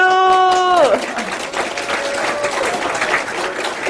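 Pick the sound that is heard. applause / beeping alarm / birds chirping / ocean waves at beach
applause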